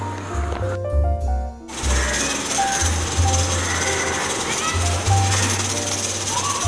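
An electric mixer grinder whirs loudly, grinding roasted spices for sambhar powder in steady bursts with brief pauses between runs, and a voice talks over it.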